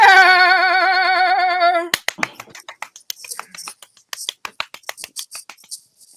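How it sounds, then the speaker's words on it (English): Homemade applause made by hand into a Yeti microphone: a sustained tone first, then a rapid run of dry snaps and claps, close and crisp, irregular and thinning out. "Thank you for that round of applause."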